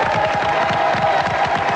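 Studio audience at a French TV game show clapping and cheering, a dense steady wash of applause with shouts mixed in, loud and continuous from start to finish.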